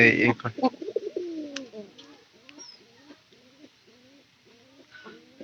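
Pigeons coo in a repeated rhythmic series of soft, low calls close by, following a brief burst of louder noise at the start, with a person speaking at the beginning.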